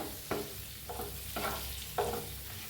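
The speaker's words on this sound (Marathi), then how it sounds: "आता ह्याच्यात दोन चमचा बघा बेसन घेतले ते घालून घेऊया हलवून घेऊया" Gram flour is stirred into chopped capsicum in a frying pan. Four rhythmic spatula scrapes stand out over a steady low sizzle, close and moderately loud.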